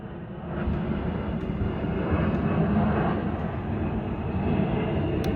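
A Red Arrows aerobatic jet roars overhead as a steady, broad rumble that rises after a quiet start and holds for several seconds, fairly loud and continuous.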